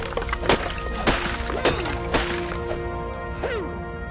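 Building a wooden house in the ARK video game brings repeated wooden thwacks and cracking hits at irregular intervals, loud and close, with no voices.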